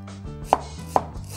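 Three crisp knife chops through ginger on a cutting board land about half a second apart, each a sharp close thunk against a low steady background hum.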